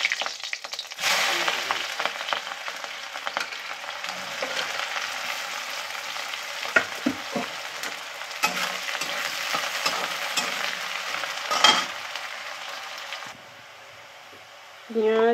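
Onions fry in oil with cinnamon, cloves, a large cardamom, dried chilli and cumin, giving a long, steady sizzle with intermittent stirring clatter and a brief voice near the end.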